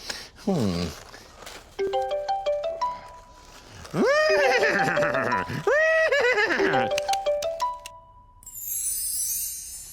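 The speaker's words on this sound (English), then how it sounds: "Did I hear a horse?" A horse whinnies several times in loud, wavering neighs, with short tonal bursts in between and a rustling hiss at the end.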